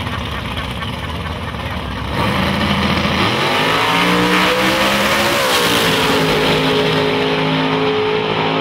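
Small-block nitrous drag race cars launching down the strip, engines droning then surging loud as they accelerate with rising, wavering pitch, close and continuous.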